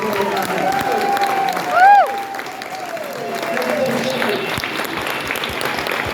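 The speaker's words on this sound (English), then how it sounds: "Big round of applause, please." Audience applause at a comic convention stage show, a steady crowd clapping throughout with a brief swell of cheering near the start, while a voice or whistle-like tone sweeps over it.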